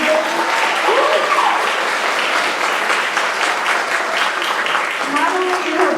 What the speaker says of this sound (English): we need another round of applause for Marta